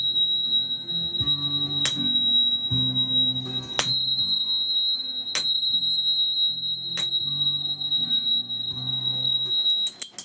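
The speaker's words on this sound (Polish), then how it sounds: "Utwór numer 8 to powtarzający się dźwięk C w następnej oktawie" Tuning fork tuned to C at 4096 Hz rings as a steady high pure tone throughout, struck again every couple of seconds, sitting over soft low background music.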